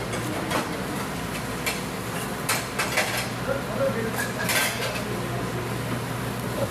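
A knife slices through a pungent onion on a cutting board while tinola is being prepared, giving a few sparse, light taps and cuts against a steady background hiss.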